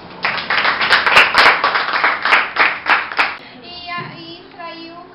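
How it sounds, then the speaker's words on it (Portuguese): Eighth-grade classmates clap together for a group after a model sugarcane grinder demonstration, a dense burst of hand claps lasting about three seconds, then fading into a few scattered claps and brief voices. "Pessoal, palmas para eles."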